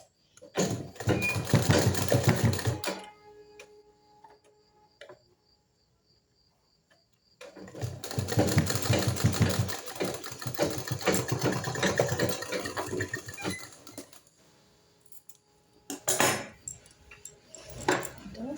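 A sewing machine stitches rope onto fabric in three separate runs of rapid, buzzing needle strokes, close and fairly loud, divided by quiet pauses.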